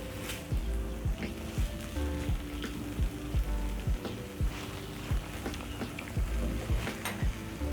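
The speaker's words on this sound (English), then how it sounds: "Stir in the capsicum." Green capsicum sizzles and fries in a pan while being stirred, steady frying crackle broken by repeated scraping strokes of a utensil across the pan, close and moderately loud with no talking.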